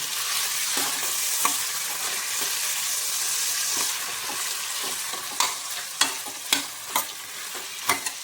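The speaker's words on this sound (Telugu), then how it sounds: "ఇప్పుడు మనం తిప్పుకోవాలండి" Mutton curry stirred in a hot frying pan, with a steady sizzle under repeated scraping strokes of a spoon that turn into distinct, rhythmic clacks toward the end, and no talking.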